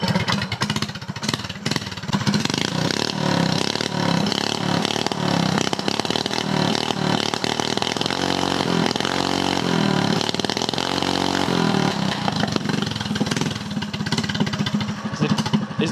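Mini bike engine with a newly welded muffler flange roars to life and runs continuously, a close, loud, buzzy small-engine drone with pulsing revs and throttle swells throughout, no talking.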